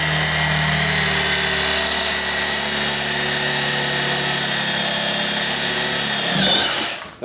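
A power drill bores through a hardened steel file, giving a loud, continuous high-pitched whine that holds steady for several seconds before winding down as the bit binds.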